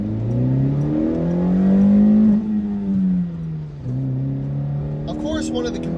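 A Honda CR-Z engine revs up and holds high between gear shifts, its pitch rising, hanging, then dropping, heard from inside the car at moderate loudness.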